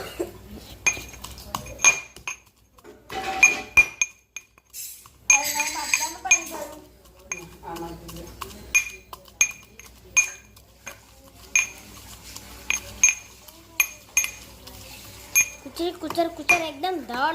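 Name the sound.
pounding garlic to make garlic chutney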